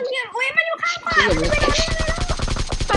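Rapid automatic gunfire from a video game, a dense burst of repeated shots lasting a couple of seconds, following an excited voice shouting just before it.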